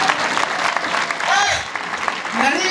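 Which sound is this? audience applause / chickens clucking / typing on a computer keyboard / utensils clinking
audience applause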